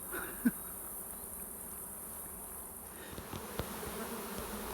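A steady buzzing of many honeybees flying around open hives fills the air outdoors, constant and moderately close, with a few faint clicks and no voices.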